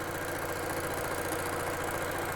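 A sewing machine stitching along the top seam of a tool pouch near the Velcro; a steady, close, continuous mechanical whir and rapid needle drone with no pauses and no talking.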